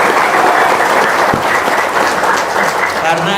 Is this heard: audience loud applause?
yes